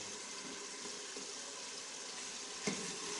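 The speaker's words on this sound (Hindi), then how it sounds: "ओजड़ी को अच्छी तरीके से फ्राई कर लेना है" Mutton ojhri (tripe) with whole green chillies frying in a pan, a steady broadband sizzle throughout with one brief sharper crackle or stir near the end.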